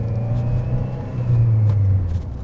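A 2005 Saab 9-3 Vector engine accelerates in first gear with a steady, loud rumbling drone whose pitch climbs and swells as the revs rise.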